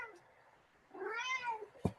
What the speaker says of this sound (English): Does the cat approve, Steve?